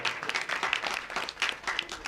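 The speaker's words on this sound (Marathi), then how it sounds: "तुम्ही टाळी वाजवा एकदा आता" A crowd claps at a devotional procession celebrating the Ayodhya Ram temple consecration, a faint, distant patter of many hands with a few sharper claps standing out.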